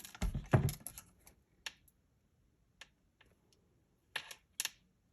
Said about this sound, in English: We're going to bend the wire with our wire cutters. We're going to cut the wire.